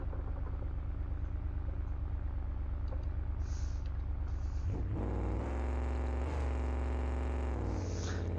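Car engine in the BeamNG.drive driving game revving up from a low drone around five seconds, holding a loud, steady, rising tone with a sharp upward sweep near six seconds, close and continuous throughout.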